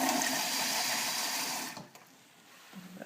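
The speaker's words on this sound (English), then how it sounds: "so I'm going to add a little bit more water." Water poured into a crock pot over chicken gives a steady, fairly loud rushing splash for about a second and a half, then stops abruptly, leaving quiet room tone with faint small sounds.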